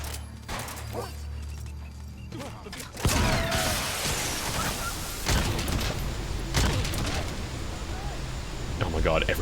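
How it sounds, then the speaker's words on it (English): Gunfire in Metal Gear Solid V, a few sharp bursts cutting through steady game ambience and background noise, with a person talking over it at times. "Everybody heard the gunshots."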